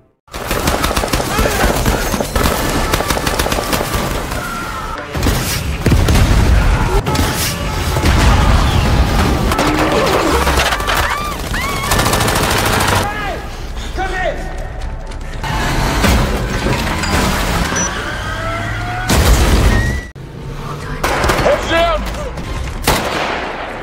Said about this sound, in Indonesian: di luar polisi yang tiba langsung diberondong peluru